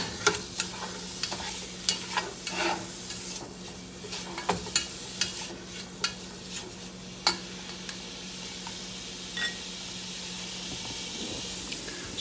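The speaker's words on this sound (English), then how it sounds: "We're just throwing the meats in there. We're going to brown them." Meat browning in a pan gives a steady background sizzle and hiss, broken by sharp scraping and stirring knocks of a utensil at irregular intervals in the first half, quieter later.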